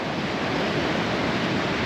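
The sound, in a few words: big ocean waves breaking on Moroccan coast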